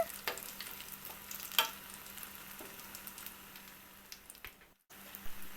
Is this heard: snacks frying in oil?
yes